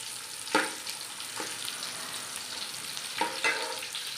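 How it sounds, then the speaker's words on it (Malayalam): Raisins frying in oil in a pan, a steady close hiss of sizzling with a few sharp scraping stirs breaking through. "ഇതിനകത്തേക്ക് നമ്മൾ കുറച്ച് കിസ്മിസ് ചേർക്കുകയാണ്."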